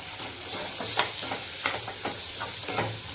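Green peas, capsicum and coriander get stirred in a sizzling frying pan, the spoon scraping in steady, repeated strokes over a constant hiss of frying.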